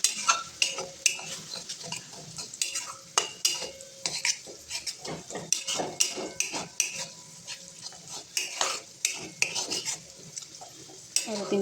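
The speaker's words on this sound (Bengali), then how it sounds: "এটাকে আবার একটু নাড়তে কয়েকবার" Taro leaves with a splash of water and salt are stirred in a pan, a spoon scraping and clattering in quick repeated strokes over a soft simmering hiss.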